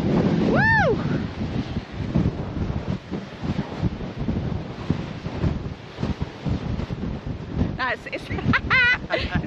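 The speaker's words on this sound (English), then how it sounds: "It's really windy." Strong wind buffets the microphone in loud, gusty roars, while voices call out briefly near the start and again at the end.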